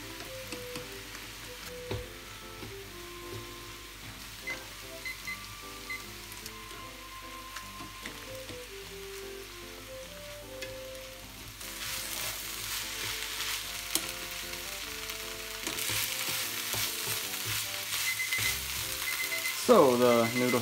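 Vegetables for yakisoba sizzle in a pan, softer at first under background music, then hissing loudly and steadily as water is added and they steam, with a few stirring clinks near the end.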